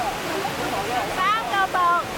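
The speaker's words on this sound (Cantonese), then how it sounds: "你睇啲水，嚟咗3個瀑啦，好靚！ 第一個瀑布。" Waterfall on Wang Chung Stream in full flow, a steady broadband rush of water filling the whole clip, with faint voices or chirpy tones rising over it near the end.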